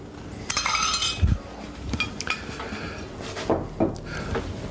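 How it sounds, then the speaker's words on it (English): Ice clinking and knocking against a cocktail glass while a classic cocktail is mixed, several sharp clinks scattered through the moment with a soft background rustle, close and moderately loud. "I'm just gonna use this ice because I can."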